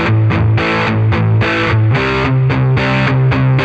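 Chugging distorted power chords on a Kazuki Silent SA-40 acoustic-electric guitar, played in short rhythmic bursts with brief palm-muted gaps, loud and driving.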